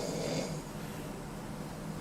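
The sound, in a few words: snoring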